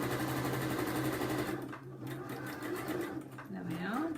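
A sewing machine runs steadily while sewing a quarter-inch seam on bunting made from 5-inch charm squares, its hum close and continuous. Someone talks over the whirring as it stitches.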